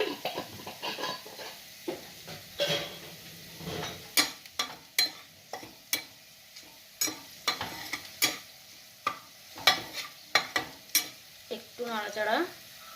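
Small bay leaf sizzling in hot oil in a pan while cooking chicken, with a steady frying hiss broken by frequent sharp clinks and scrapes of a stirring spoon against the pot.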